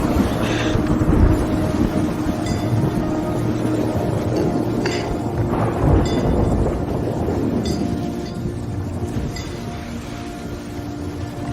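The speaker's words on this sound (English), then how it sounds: "the storm had to come" A thunderstorm in The Elder Scrolls Online fighting in Cyrodiil, a loud, continuous rumbling wash of storm noise with a few faint metallic clinks on top, running throughout.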